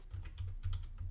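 Soft, quick clatter of keys on a computer keyboard, with a steady run of light taps at moderate distance and no voices.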